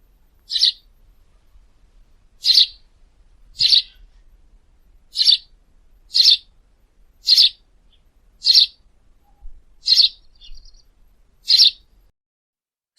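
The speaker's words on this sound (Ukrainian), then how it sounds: "Горобець." House sparrow chirps, nine short bright calls at roughly one-second intervals, clear and fairly close against near silence.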